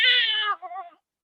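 A cat screams in a strained, drawn-out wail that breaks into a shorter wavering yowl, close and loud with nothing else around it. A reader may be voicing the cat.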